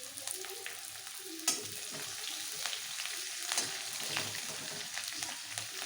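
Curry leaves hit hot oil already holding ginger and green chillies, giving a steady crackling sizzle with a sharp pop near the start and light stirring scrapes, no voices.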